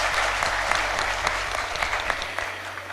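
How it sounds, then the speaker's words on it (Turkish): An audience at an Antalya Yörük Türkmen cultural workshop gives a sustained round of applause, loud and continuous with sharper individual claps over a low steady hum. "Alkışlarımızı alın efendim"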